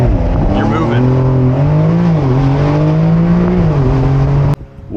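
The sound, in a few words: Porsche 911 Carrera 4S Cabriolet 992 launching and accelerating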